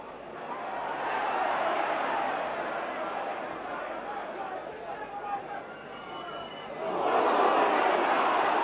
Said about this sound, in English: the crowd certainly shouting for one or two things